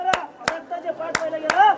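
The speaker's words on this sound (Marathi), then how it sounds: "आज टाळी जरी वाजवली तरी टाळीचा आवाज येईल बघा." Single sharp hand claps ringing out in the stone durbar hall of Raigad fort, four distinct loud cracks spaced unevenly, each with a short echo, between bits of talking.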